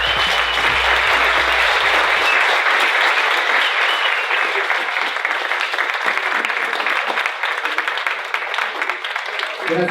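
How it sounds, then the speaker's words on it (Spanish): An audience at a cannabis forum claps loudly and continuously for the speakers, a dense applause that holds strong throughout and tapers slightly near the end, with a brief voice at the start. "brindémosle un muy fuerte aplauso a cada uno de los ponentes"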